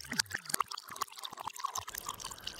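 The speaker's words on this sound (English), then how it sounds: "let's reverse the sound of the drink being poured to match the footage." Reversed recording of wine being poured into a glass, heard as a run of gurgling, swelling liquid blips and drips that build and cut off unnaturally, fairly close and alone.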